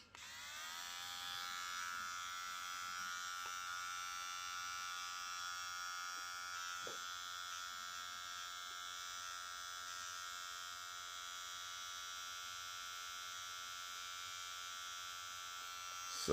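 A Kemei 129 electric hair trimmer runs with a steady, even high-pitched buzz that holds constant for the whole stretch, close and fairly quiet, with no talking.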